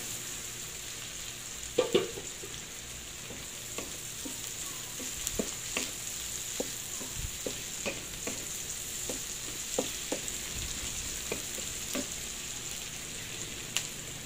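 Garlic and onion sauté in a hot pan for crab and shrimp cooking, a steady soft sizzle broken by scattered clicks and scrapes of stirring, with no voices.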